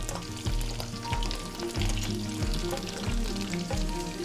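Prawns fry in a hot pan with a steady, loud sizzle, broken by repeated low thumps and clatters as they are stirred and flipped.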